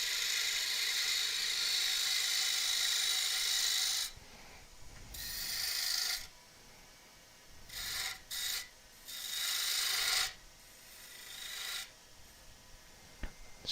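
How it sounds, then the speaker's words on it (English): A 3/8 bowl gouge scrapes across wood spinning on a lathe in steady, raspy bursts broken by short pauses, close and fairly quiet. "So I've got a 3/8 bowl gouge here, just run down there."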